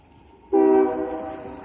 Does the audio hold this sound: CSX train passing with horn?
yes